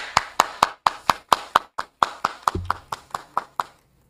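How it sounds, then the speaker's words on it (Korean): Clapping at a Korean church Thursday gathering as members come forward, a few sharp, rhythmic hand claps in a steady beat, close and distinct, with a brief low thump partway through. "우리 나오실 때 박수 부탁드립니다."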